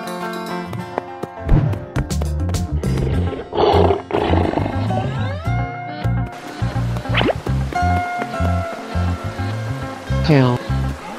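A lion gives several deep, loud roars close up, over a busy backdrop of music-like tones and voices.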